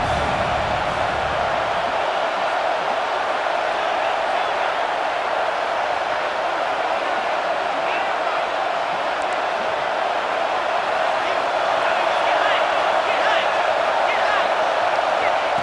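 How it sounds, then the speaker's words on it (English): Steady, loud roar of a stadium crowd in the video game EA College Football 26, during a Georgia versus Clemson matchup, swelling on a third-down play and sustained throughout with no break. "3rd down, and the crowd really getting into it."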